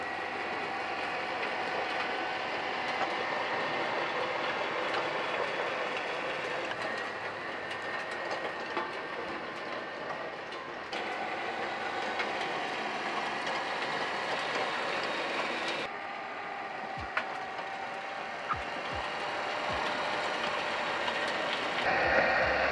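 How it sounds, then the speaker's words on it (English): A battery-powered roto-tiller driven by a forklift motor churns under load, a loud continuous mechanical roar with rattling, clattering tines and shifts in pitch as the motor bogs down, steady and close throughout. "The motor bogs down nicely under load"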